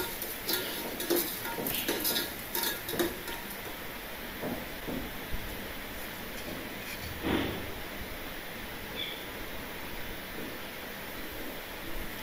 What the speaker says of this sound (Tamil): வெங்காயம் ஃப்ரை ஆகிட்டுருக்கு